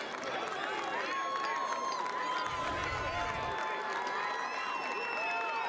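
A college lacrosse crowd roars after a goal, a steady, loud wash of cheering and whooping with voices rising above it, heard at a distance under a commentator talking.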